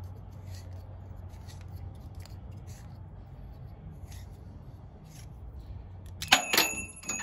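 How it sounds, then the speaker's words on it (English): A hand tube cutter works around an aluminum fuel line on a 1966 Buick Wildcat, with faint scraping strokes over a low hum, then a sharper metallic clatter as the blade breaks through near the end. "you just keep going and going, and then eventually it breaks through, and you've got your cut in the aluminum"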